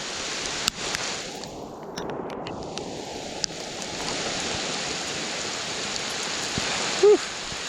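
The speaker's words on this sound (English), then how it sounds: "Because it's raining pretty hard, as I'm sure you can see." Heavy rain falling while fishing outdoors in warm weather, a dense steady hiss of drops on water and surfaces, with a few brief knocks and a faint voice near the end.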